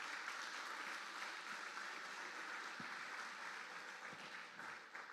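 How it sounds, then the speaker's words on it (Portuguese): A church congregation applauds steadily during a sermon, a dense wash of clapping that holds at an even loudness throughout with no voices on top. "Dê uma salva de palmas para ele"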